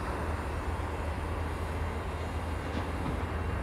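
A DJI Flip drone taking off into an automated quick-shot flight pattern, with a steady broadband whir and rumble holding at an even level throughout, no voices present.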